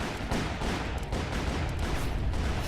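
Dense, continuous gunfire from the Western video game Call of Juarez, a loud rattle of rapid overlapping shots that fills the whole moment with no clear gaps and no talking.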